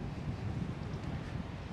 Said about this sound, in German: die haben natürlich heute richtig Wind